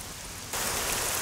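Heavy rain hisses as a dense, steady wash that suddenly grows louder and brighter partway through, continuous with no voices over it.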